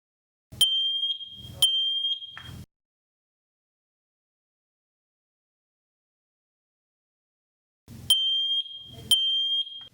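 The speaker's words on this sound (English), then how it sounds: "press and hold the control button until each alarm chirps" Matelec FSA-30000 wireless photoelectric smoke alarms chirp during a test, giving two separate clusters of sharp, loud, high electronic beeps, three chirps in each, with near silence between them.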